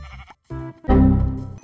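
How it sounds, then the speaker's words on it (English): A Minecraft sheep bleats in the video game, with a short call followed by a longer, wavering bleat, loud and close and alone. "Sheep!"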